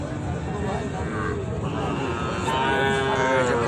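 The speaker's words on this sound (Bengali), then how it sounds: "এখানে কয়েকটা গরু দেখতেছি" Young Sahiwal bulls and calves at a cattle market moo loudly in long, drawn-out calls. People talk and a crowd murmurs throughout.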